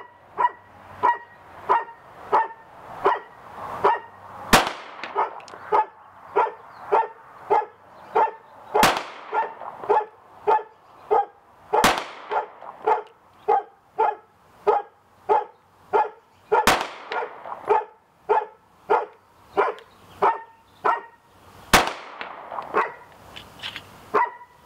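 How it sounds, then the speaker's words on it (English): A Smith & Wesson M&P Shield 9mm pistol fires five sharp, loud single shots spaced several seconds apart. A dog barks rhythmically and nearly continuously underneath them. "So let's see how this M&P 9 Shield works."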